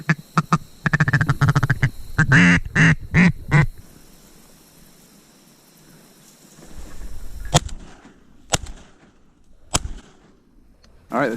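Gunshots crack out during a hot-weather duck hunt over decoys, a quick burst of several sharp shots early on, then a few isolated loud reports spaced apart, with ducks quacking near the start.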